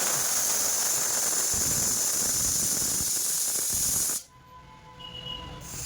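A pressure cooker on the stove lets out a loud, steady hiss of escaping steam for about four seconds before it cuts off abruptly, leaving a quieter background.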